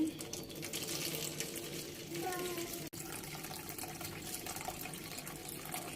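Warm milk pours from a container into a bowl for homemade yogurt: a continuous splashing liquid stream that runs steadily throughout, with a faint voice in the background.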